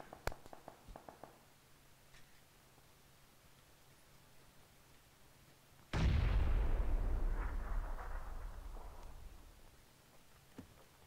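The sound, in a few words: grenade explosion in a video game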